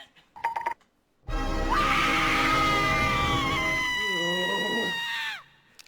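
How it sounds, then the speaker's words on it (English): A long, shrill, high-pitched scream sound effect from Digimon: The Movie wails for about four seconds, bending and quavering before cutting off, preceded by a few short thumps. "That scream sound effect."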